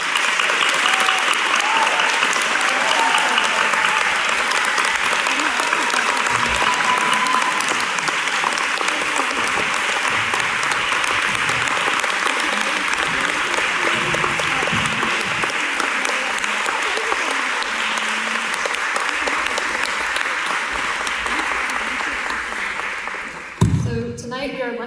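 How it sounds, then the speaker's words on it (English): An audience gives sustained, loud applause for a student panel at a Houston climate caucus, dense clapping lasting over twenty seconds before stopping abruptly at the end. "Let's have a round of applause for them."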